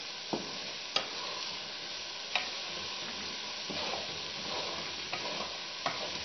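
Eggs fry with onions in a pan over medium-low heat, giving a steady close sizzle throughout, broken by a few sharp taps and scrapes of stirring.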